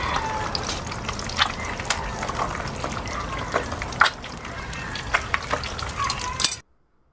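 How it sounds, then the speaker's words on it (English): An egg sizzling in a frying pan with salt and pepper, a close, steady crackle with scattered sharp pops, heard alone until it cuts off at the end. "Who doesn't like the sound of egg frying, right?"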